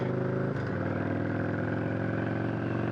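A Victory V92C motorcycle, close to twenty years old, runs loud and steady with a deep, continuous engine drone and a small shift in pitch just after the start.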